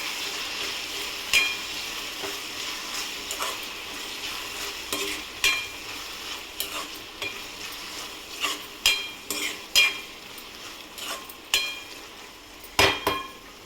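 A spoon stirs softened tomato curry in a pan over a soft sizzle, with a run of close, rhythmic knocks and scrapes against the pan that grow more frequent toward the end, with no talk.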